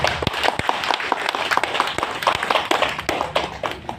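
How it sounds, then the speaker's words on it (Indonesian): Scattered audience applause for Mas Bro Bintang at a Gibran Idol lookalike contest in South Jakarta: sharp, uneven claps tap out steadily at moderate volume, with no one speaking. "Kita aplaus buat Mas Bro Bintang"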